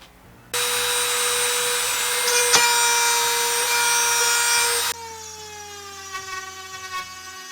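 A Proxxon plunge router cuts into wood with a loud, high whine that holds for about four seconds, then drops away into the motor spinning down.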